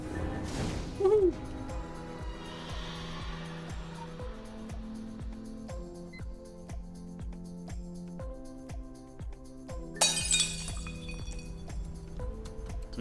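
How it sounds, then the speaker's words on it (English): Glass shattering in a video game, a sudden bright crash about two-thirds of the way in, standing out over steady rhythmic game music and effects. "So now the glass breaks, you can jump down."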